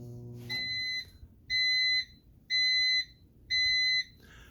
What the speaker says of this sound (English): The beeping came back.